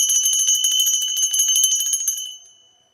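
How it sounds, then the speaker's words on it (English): A single bell rings with bright, sustained tones and rapid repeated strikes for about two seconds, then decays cleanly into silence. "Let's ring the bell."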